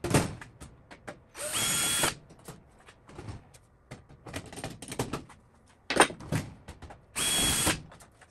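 Bursts of a power drill opening holes to number 30 size in an aircraft wing part held with clecos, short high whines separated by clicks and handling knocks.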